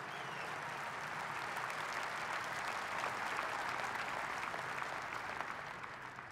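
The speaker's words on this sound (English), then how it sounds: "another great round of applause for all the great work they do for us every day" Sustained applause from a sizable crowd at an NRA leadership forum, steady and dense throughout, tapering slightly at the end.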